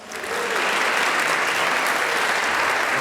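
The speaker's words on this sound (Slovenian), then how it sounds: "dajmo en velik aplavz še za Franjo" Audience applause for Franja at a Slovenian celebration of the Fran.si portal's tenth anniversary, a dense, loud wash of many hands clapping that swells in quickly and holds steady without a break.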